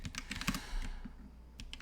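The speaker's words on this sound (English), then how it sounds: "Why does my keyboard sound slushy tonight?" Quiet, close computer keyboard typing with a soft, mushy key feel, coming in a quick burst of clicks, a short pause, then a few more taps.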